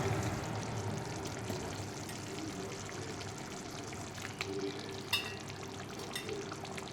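Chicken pieces drop into sizzling masala in a wok for chicken masala, giving a dense, continuous frying hiss with faint stirring scrapes and a sharp clack near the end.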